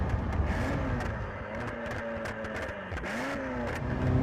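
Ferrari F40 engine pulling at half throttle in fourth gear, its note climbing steadily and loud from inside the car, with no voices.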